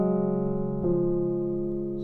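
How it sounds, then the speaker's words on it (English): A sustained piano sus4 chord rings out, then a second chord is struck just under a second in and left to decay, close and clear with no voices. "You have the regular sus 4, which sounds like this."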